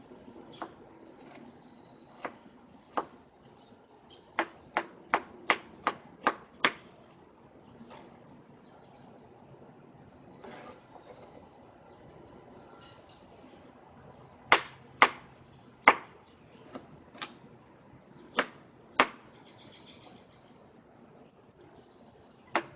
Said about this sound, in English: So I'm just dicing these up.